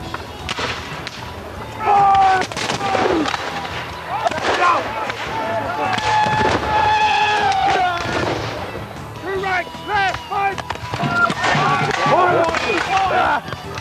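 Muskets fire in ragged volleys at an American Civil War reenactment, sharp loud bangs scattered through the scene while shouted commands and voices carry over the firing.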